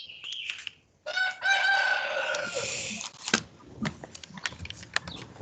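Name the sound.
rooster crowing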